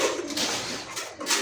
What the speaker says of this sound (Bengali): শিবলু ভাই কিন্তু খাবার দাবার কবুতরে দিতেছে।